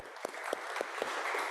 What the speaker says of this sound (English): So we'll give Mike a round of applause.